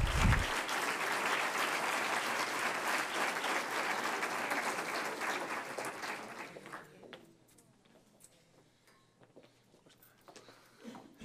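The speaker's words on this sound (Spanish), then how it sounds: "para quien les pido un aplauso" Audience applause rings out loud and dense at an entrepreneurship awards ceremony in Fuenlabrada, holding steady for about six seconds before thinning to scattered claps and quiet room noise.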